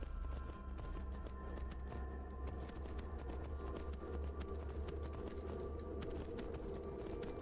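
Horse galloping in the video game Skyrim, a fast continuous stream of hoof clip-clops over a steady hum of game ambience, fairly quiet throughout.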